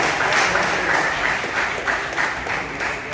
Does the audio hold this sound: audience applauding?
yes